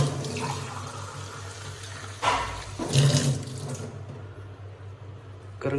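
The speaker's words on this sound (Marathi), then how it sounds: "त्याला पाणी घातलं पाहिजे." Water is poured onto a potted holy basil (tulsi) plant indoors: a soft, splashing rush swells for about a second and a half, then thins to a trickle and fades, close by with no talking.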